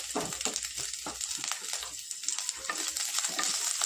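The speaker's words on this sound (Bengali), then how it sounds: "এখন এইগুলো আমি ভালো করে ফ্রাই করে নেব" Nuts and raisins fry steadily in a pan with oil, a continuous sizzle broken by scraping stirs and light clinks throughout, close and fairly loud with no talking.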